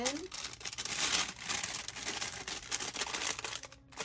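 A wax bag crinkles and rustles steadily as a bar of soap is packed into it, a close, busy paper crackle running the whole time with soft handling noises.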